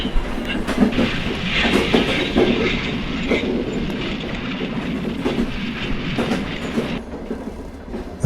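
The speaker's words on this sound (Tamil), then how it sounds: "ரயில் புறப்பட தொடங்கி சென்று கொண்டிருந்தது" A passenger train pulls away and runs along the rails, a steady rumble with clickety-clack wheel beats and occasional metallic squeal, fairly loud and continuous.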